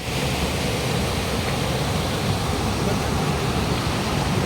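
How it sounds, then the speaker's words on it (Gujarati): Cold snowmelt water falls and rushes constantly near Manali, a steady close broadband roar with no breaks. "જો આમાં પાણી તો સતત પડે જ છે"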